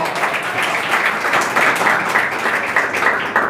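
An audience at a Hindi poetry recital applauds steadily, dense clapping from many hands that sustains at an even, loud level throughout without letting up.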